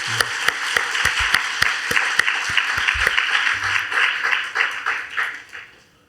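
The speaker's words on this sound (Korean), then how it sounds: "우리 하나님께 영광의 박수 올려드리겠습니다" A church congregation claps during a Sunday service, starting with a few sharp, rhythmic unison claps that swell into a full round of applause before fading out near the end.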